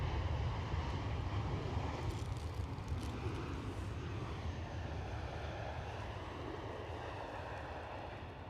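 A Ryanair jet from Alicante passes at Edinburgh Airport with a low, steady engine rumble that slowly fades, fairly distant and quiet.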